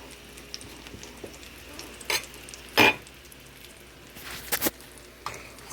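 Mock chicken legs frying in butter in a pan, a faint steady sizzle broken by a few sharp spatters and pops.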